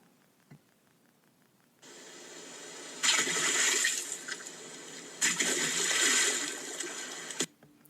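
A person collapsing into the cool water of a roaring river on a hot day, heard as steady rushing, splashing water in two loud surges, close by and with no talk.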